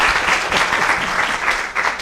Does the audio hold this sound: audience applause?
yes